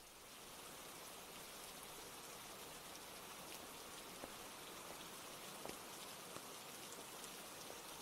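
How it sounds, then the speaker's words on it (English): Steady rain falls throughout, an even wash of drops on a surface with a few slightly louder individual drips, fairly close and constant with no talking. "you heard the rain before you actually got into the clip"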